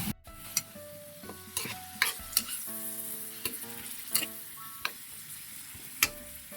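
Pot of sinigang soup with string beans and fish sauce bubbling on the stove, a soft simmering hiss punctuated by sharp clinks and taps of a spoon against the pot, up close and with no talking.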